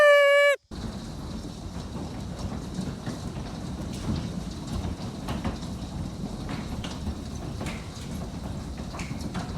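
A hailstorm in Erie pelts surfaces with a dense, steady roar of pattering and sharp clicking impacts, following a brief musical tone at the very start.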